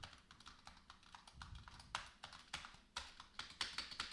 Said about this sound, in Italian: Stiamo digitando tasti mentre parliamo. Questa è una Razer Huntsman Tournament Edition.